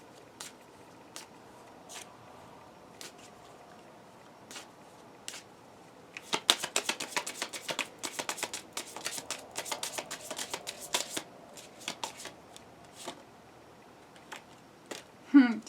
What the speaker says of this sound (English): Let's pull a Wisdom of the Oracle card.